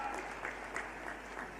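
Brief, moderate applause from an audience welcoming guests at a public event, an even patter of clapping with a faint crowd murmur.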